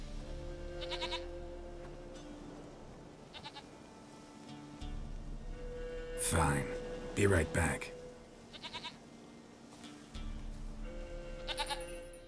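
Goat bleating inside The Witcher 3 game, several short cries rising over ambient game sound, with someone talking briefly at the start.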